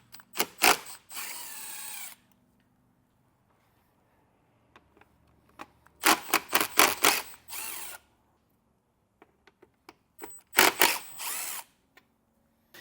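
A cordless power drill backs T40 screws out of the front fascia of a 2021 Jeep Grand Cherokee, three close, loud bursts of whirring separated by quiet pauses with small clicks and handling taps.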